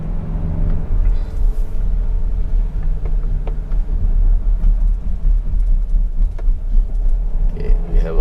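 A 2022 Kia Carnival climbing Genting Hill, its engine a low, steady rumble under continuous road and cabin noise, heard from inside the vehicle.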